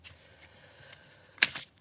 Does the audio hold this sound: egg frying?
no